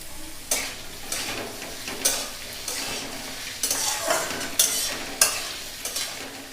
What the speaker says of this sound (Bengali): আমি 4টে পেঁয়াজ কুচি কুচি করে কেটে নিয়েছি, ওইভাবে ওটা দিয়ে দিচ্ছি।